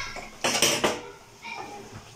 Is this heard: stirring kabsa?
yes